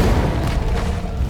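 A fire spell blasts out in the Hogwarts Legacy video game, a loud, dense booming burst of flame that holds steady through the short moment with no talk.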